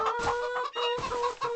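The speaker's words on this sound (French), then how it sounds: "on va commencer par les poules" Chickens cluck close by in a farmyard, a busy run of short, overlapping clucks and squawks with brief pauses between bursts, loud and without talk.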